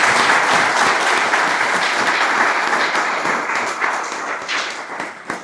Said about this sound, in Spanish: hay que ser agradecidos y darles un aplauso